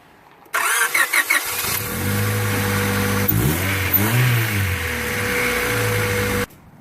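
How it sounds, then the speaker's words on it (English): A car engine cranks with a few rapid sputters after spark plug replacement, catches, then settles into a steady idle with a couple of revs, loud and close, no talking. "we are going to now fire up the car"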